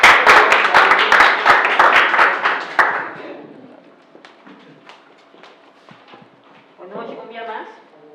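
Loud, dense clapping from an audience fills the first three seconds before fading into scattered claps and quiet room noise, with a voice speaking near the end.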